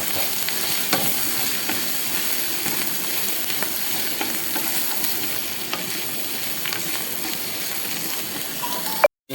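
Steady, close sizzling of masala and turmeric frying for mushroom noodles, with continuous stirring scrapes over the hiss until a sudden stop at the end.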